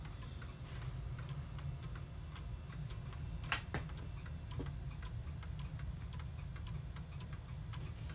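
Antique Gebrüder Kuner quail cuckoo clock movement, a one-day clock mounted on a test stand, ticking in a steady even rhythm, close and clear over a low background hum with no voices.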